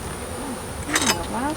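Honey bees hum steadily around an open hive during an inspection, a close continuous drone with a brief louder burst of buzzing near the middle.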